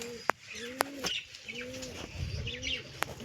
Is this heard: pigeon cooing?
yes